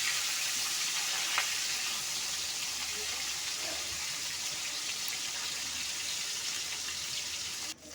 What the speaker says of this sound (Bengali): উল্টে পাল্টে খুব সুন্দর করে লাল করে ভেজে নেবো, যেমনভাবে মাছ ভাজা হয়